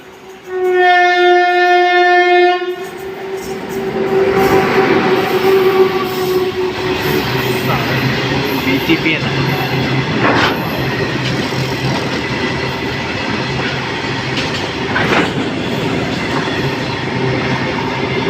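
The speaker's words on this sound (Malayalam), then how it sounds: "ഏതോ ഒരു വണ്ടി വരുന്നുണ്ട്" At a crossing near Balaramapuram station, a train horn blares loudly in a long blast, then rail cars rumble and rattle past close by, with clacking wheels and occasional metallic squeals.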